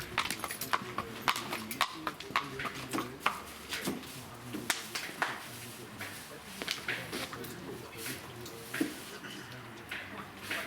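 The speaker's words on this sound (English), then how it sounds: "He's an absolute beauty, that horse." Horse hooves clip-clopping on a stallion trail at a stud farm in Fermoy, County Cork, a steady uneven patter of footfalls at moderate distance under general outdoor noise.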